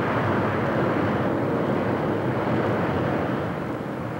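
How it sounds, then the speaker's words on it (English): A propeller airliner's engines roar as the propellers reverse pitch to brake the plane after landing: a loud, steady, broadband rush that holds throughout and eases only slightly near the end. "you hear the engines roar soon after you're on the ground, remember that's what he's doing, reversing the props to stop the airplane"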